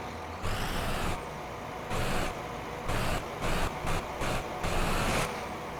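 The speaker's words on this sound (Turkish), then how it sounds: "Arabanın sesini size dıştan göstereyim." A bus engine in Euro Truck Simulator 2, heard from outside the vehicle, rises and falls in several short bursts over a quiet idle base.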